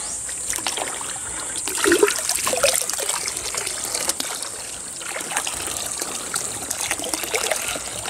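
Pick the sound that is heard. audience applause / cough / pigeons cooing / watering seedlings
watering seedlings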